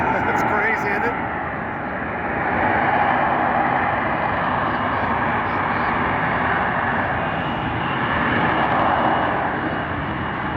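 Aircraft at an air show in the Yuma area, a loud, broad roaring engine rumble that swells and eases over several seconds as it passes, continuous with no clear talk.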